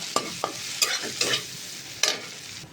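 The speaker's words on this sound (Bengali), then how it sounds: "আলুটা এই যে ভাজা হয়ে গেছে একটু লাল করে।" Potatoes fry in a pan until reddish while a spoon stirs them, giving a steady close sizzle broken by about five sharp scraping strokes.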